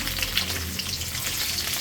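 Chopped onions hit a pan with dried loitta fish and fry in a close, continuous sizzle with light stirring scrapes, loud and even throughout with no talk.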